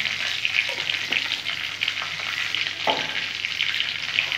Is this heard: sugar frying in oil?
yes